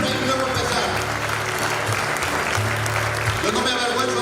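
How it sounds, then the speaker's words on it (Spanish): A church congregation applauds loudly and continuously, a dense crowd of clapping that stays strong throughout with a low background tone and murmur beneath it. "Dale un fuerte aplauso a la iglesia del Señor."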